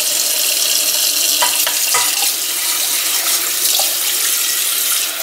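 A tap runs steadily and strongly into a sink while rice is washed, a continuous close rushing splash with a few small clinks and no talking.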